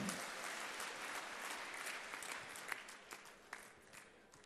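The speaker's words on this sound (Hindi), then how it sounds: "आइए जोरदार तालियों से उनका स्वागत करें।" Steady applause from a large crowd at a political rally in Betul, Madhya Pradesh, welcoming Chief Minister Shivraj Singh Chouhan, dense and continuous, with a few sharper claps standing out near the end.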